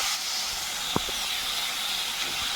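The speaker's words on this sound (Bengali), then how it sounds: "এবার দিয়ে দিচ্ছি পেঁয়াজ, রসুন, আদা, কাঁচা লঙ্কা বাটা" Onion, garlic, ginger and green chili paste sizzles in hot oil while pangas fish cooks, giving a steady close hiss throughout with a brief knock partway through.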